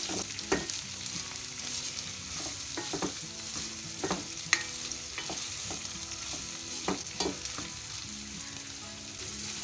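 Flat beans (sem phali) fry with turmeric powder in a pan, giving a steady close sizzle broken by scattered clinks and scrapes of stirring. No one speaks.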